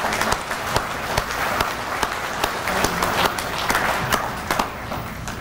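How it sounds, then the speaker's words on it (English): Applause from an audience at an American Legion event honouring outstanding Legion posts; dense, sustained clapping with sharp individual claps standing out, close and loud throughout. "let's give these outstanding Legion posts a big round of applause."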